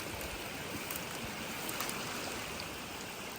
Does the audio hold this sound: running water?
yes